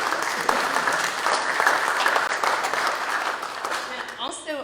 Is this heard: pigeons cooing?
no